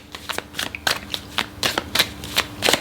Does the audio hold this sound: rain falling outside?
no